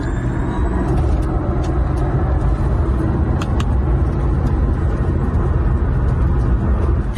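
A 2,000-horsepower Drako Dragon electric SUV, with a motor on each wheel, drives hard through turns, filling the cabin with a loud, constant rumble of road and wind noise and no talking.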